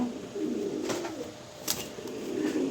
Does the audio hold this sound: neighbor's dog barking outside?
no